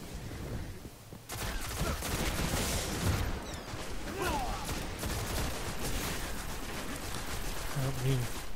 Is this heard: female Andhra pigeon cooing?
no